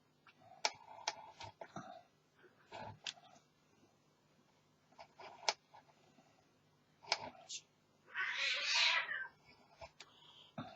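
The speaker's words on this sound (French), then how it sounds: "Là, les chats qui se battent." Cats quarrel nearby with short meows and growls spread through the stretch, ending in a loud, hissing yowl burst; faint clicks sit underneath.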